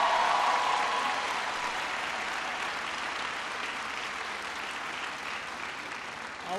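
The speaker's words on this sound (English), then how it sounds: "Can everybody please give Aubrey a big round of applause for the great introduction?" A large audience at a university town hall with young Caribbean leaders in Jamaica applauds steadily, a dense wash of many hands clapping that starts loud and eases slightly, with no talk over it.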